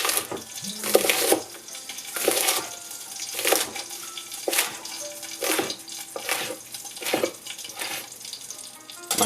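Cold tap water runs over bok choy leaves being soaked and rinsed in a kitchen sink, coming in repeated splashing bursts with short pauses between them, close and fairly loud, with no talking.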